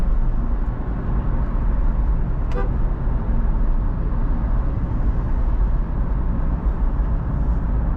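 Steady road noise from inside a fourth-generation Honda City driving at normal speed, a constant loud rumble with one brief horn toot from nearby traffic partway through.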